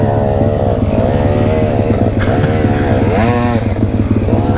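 A KTM 250sx two-stroke motorcycle engine revs hard and close, its pitch swooping up and down steadily throughout without pause.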